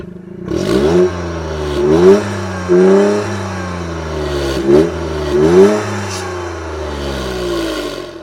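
A 2022 Toyota GR Yaris hot hatch has its engine revved repeatedly, loud and close, with several rising blips over a steady idle drone and no talking.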